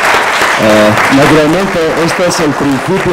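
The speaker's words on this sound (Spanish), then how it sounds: "Gracias por esos aplausos" An audience applauds at the end of a panel discussion on customer experience, a steady clatter of clapping that carries on beneath a speaker who keeps talking over it.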